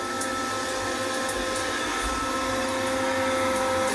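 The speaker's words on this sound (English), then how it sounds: "This water vacuum isn't that great." A wet water vacuum runs with a steady, loud, unbroken whine and motor drone, close up and alone for the whole stretch.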